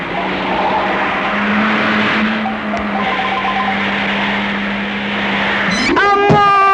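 An expensive car's engine holds a loud steady drone, then rises into sharp tire squeals near the end, as in a skid before a crash.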